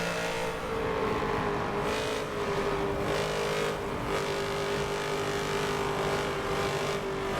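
Race cars in a racing video game driving through turns three and four at Homestead, a continuous loud engine drone with steady pitch and slight surges, a car passing now and then.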